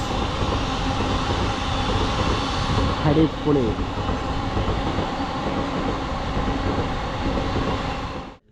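A train rumbles past close by on a bridge at Kadalundi, Kerala, a loud steady roar of wheels and cars lasting several seconds, with a brief exclamation from a person partway through.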